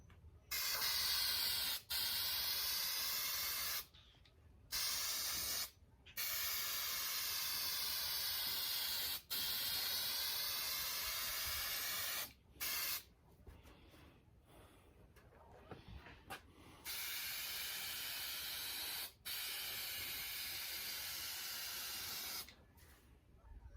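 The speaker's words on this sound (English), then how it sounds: "I'm going to use spray adhesive, 3M Super 77" Long bursts of 3M Super 77 spray adhesive hiss onto seat foam, repeated several times with short pauses between, close and loud with no talking.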